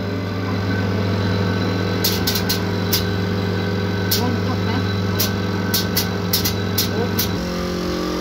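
A kurut-making machine runs steadily with a constant mechanical hum, joined by a small compressor, while several short high clicks or hisses repeat irregularly over the drone.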